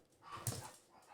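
A dog gives a brief, faint yelp or muffled bark amid a short whimpering pant, quiet and somewhat distant, heard once with no talking.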